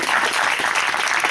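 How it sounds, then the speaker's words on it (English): A brief, steady patch of dense applause from the audience at a university creative writing graduate reading. "I just think we should thank him with applause and cheers"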